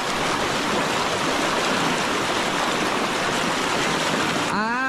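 A river flows in a loud, unbroken rush of water close by, filling the whole stretch evenly, with a voice starting to speak only at the very end.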